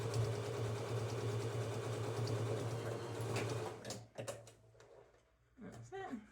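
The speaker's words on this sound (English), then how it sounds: "So I'm just literally sewing those short sides together." A sewing machine stitches the short sides of a reversible bucket hat together, a steady, fairly quiet mechanical hum that runs for several seconds and then stops, followed by brief soft handling sounds.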